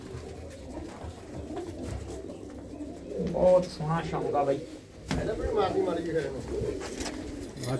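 Pigeons coo in low, throaty bursts close by while someone talks over them, with a busy outdoor background.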